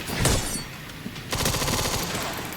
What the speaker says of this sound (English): I shot him with like one fucking bullet